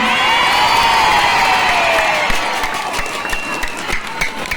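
A crowd at a political rally in Tundo applauds and cheers loudly and steadily. Whoops and shouts rise over the dense clapping, which thins slightly toward the end.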